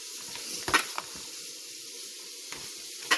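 Fried vegetables are stirred in a pan, a steady sizzle running underneath a few sharp scraping clacks of the utensil against the pan, with no one speaking.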